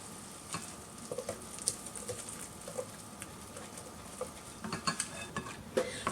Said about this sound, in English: Give that a good stir, get it all incorporated.